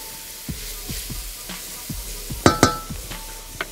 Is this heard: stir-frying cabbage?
yes